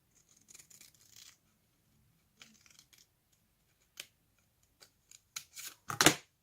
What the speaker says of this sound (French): Alors, il faut couper en deux.